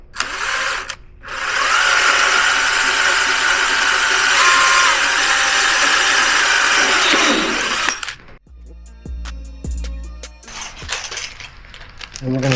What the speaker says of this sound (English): take our drill motor,